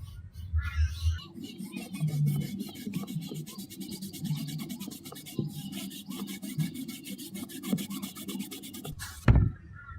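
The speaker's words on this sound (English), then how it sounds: "I'll run my hacksaw down that centre line and cut myself a through wire slot" A hacksaw rasps back and forth through timber, cutting a through wire slot into a wooden crankbait body, a steady close scraping rhythm ending in a sharp knock.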